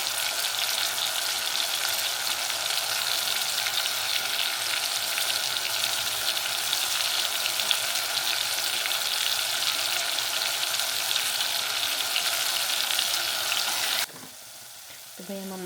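Tomato masala frying in a pan hisses in a steady, fairly close sizzle with faint stirring underneath, then the sound drops away abruptly near the end.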